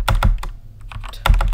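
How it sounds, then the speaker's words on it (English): Rapid typing on a computer keyboard, close and loud, with bursts of sharp key clicks, a short lull in the middle, then another quick cluster of keystrokes. "Oh my god, I can't type"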